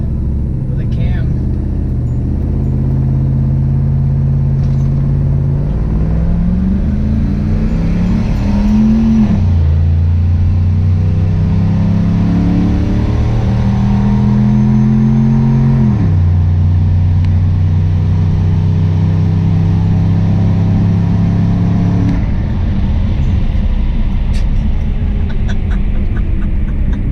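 A turbocharged LS-swapped Cadillac Escalade makes a full-throttle pull, engine droning loudly as revs climb through several gear shifts, each marked by a drop and renewed rise, with turbo whine overhead.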